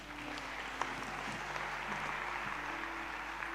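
A church congregation applauds in a steady, sustained wash of clapping that carries a faint hum and a few low tones beneath it, evenly loud throughout.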